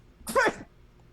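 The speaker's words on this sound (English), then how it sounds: "Oh, it was a sneeze." A single short, sharp sneeze bursts out close by, then quiet follows.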